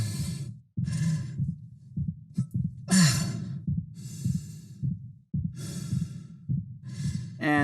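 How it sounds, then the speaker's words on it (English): Pained, labored breathing of an injured character in the Dead Space Remake: ragged inhales and exhales in an uneven cycle with small strained winces and a sharp catch of breath, close and alone. "we start to introduce little winces of pain mixed into his breathing cycle"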